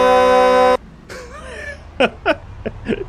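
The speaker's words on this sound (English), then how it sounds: "I'm gonna honk." A car horn in the video game Project Zomboid gives one loud, sustained blast. Afterward there is some throat-clearing and laughter.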